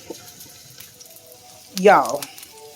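Salmon patties drop into a hot pan and burst into a loud sizzle that rises sharply, then settles into steady frying hiss, preceded by a quiet kitchen background.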